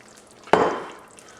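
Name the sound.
stirring dark and light red beans into beef chili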